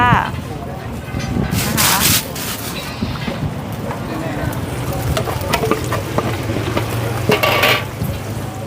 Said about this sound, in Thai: เริ่มจะใส่น้ำมันค่ะ ใส่กระเทียมลงไปค่ะ